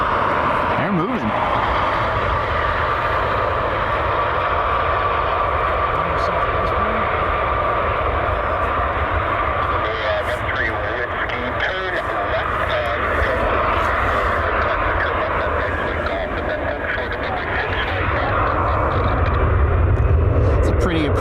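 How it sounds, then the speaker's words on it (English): A PSA airliner powers up for takeoff, its jet engines building into a loud, sustained roar that swells toward the end, with a voice talking over it. "These guys got their takeoff clearance and they're moving."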